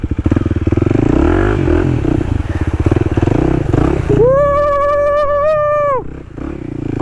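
A Kawasaki KLX300 dual sport motorcycle rides through a deep muddy hole on a rainy trail, its engine loud and close with a steady throbbing idle, then revving hard in a rising, sustained whine before dropping off.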